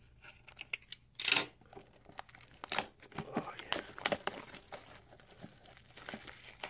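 A Star Wars: Episode III - Revenge of the Sith limited edition Blu-ray SteelBook being unwrapped, with close crinkling and tearing of plastic wrap in irregular bursts, one sharp rip near the start, quiet between.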